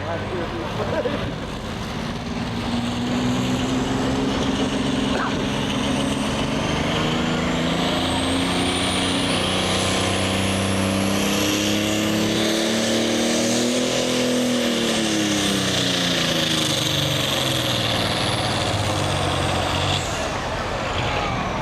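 A loud, roaring John Deere pulling tractor engine at a tractor pull drones steadily throughout, its pitch climbing and then falling, with a constant dense rumble and no pauses.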